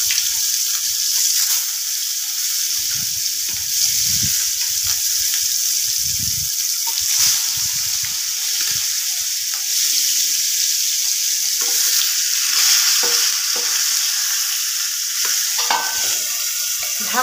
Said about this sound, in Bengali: তেলটা খুব ভালোভাবে গরম হয়ে গেছে। এবার আমি মাছগুলোকে ছেড়ে দেব।